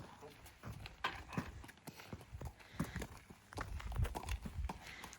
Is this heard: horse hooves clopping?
yes